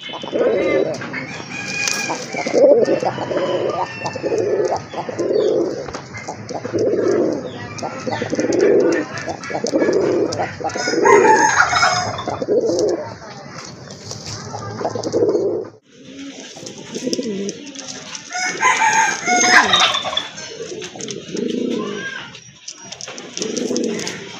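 Rajgolla pigeons at a farm, a pair cooing in repeated throaty, rhythmic calls close by, with other birds and poultry faintly mixed in and a short pause partway through.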